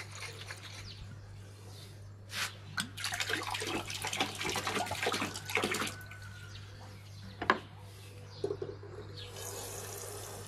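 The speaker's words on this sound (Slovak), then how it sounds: "napustíme trochu ďalšie vody a dno aj zvyšok fľaše poriadne prekefujeme" Tap water runs into a glass bottle being rinsed while brewing home beer, bursts of splashing and gurgling at close range over a steady low electrical hum, with brief pauses and a few sharp knocks.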